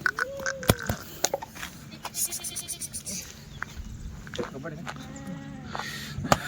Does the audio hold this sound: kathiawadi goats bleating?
yes